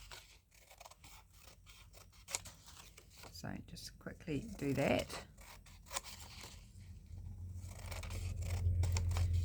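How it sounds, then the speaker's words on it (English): Scissors snip through embossed paper while it is trimmed for DIY paper medallions, with a few quick cuts heard under steady talking. "I do find it easier to trim down to the edge of where it's embossed."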